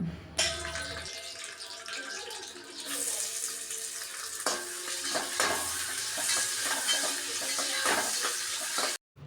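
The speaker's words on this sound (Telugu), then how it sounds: "ప్రెషర్ కుక్కర్లో ఆయిల్ వేసి ఆయిల్ హీట్ అయిన తర్వాత ఇందులోకి ఇక్కడ చూపిస్తున్నా కదా వీటన్నిటిని వేయాలి" Bay leaf, cumin, cloves, cinnamon and cardamom hit hot oil in a pressure cooker, setting off a loud, steady hissing sizzle close up, with occasional clinks and stirring scrapes before the sound cuts off.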